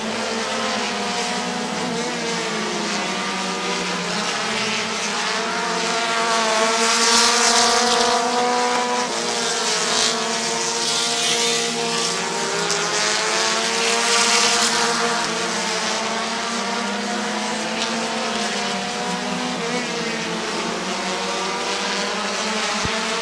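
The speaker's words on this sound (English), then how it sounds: "The 72 of Kyle Gembus out there running a little crazy in that machine." Race cars run laps at Midvale Speedway, their engines a loud, sustained roar whose pitch rises and falls as they circle and pass, swelling in the middle as the pack comes close, with no talking.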